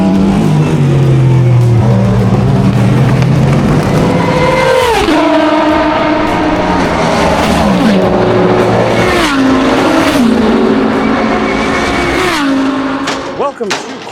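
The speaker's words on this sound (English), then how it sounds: "We've got all the cars going out in different groups." IMSA WeatherTech race cars run at Sebring during qualifying for the 12 Hours, loud engines revving and shifting through repeated pitch sweeps as cars pass close by, with a voice talking over the noise.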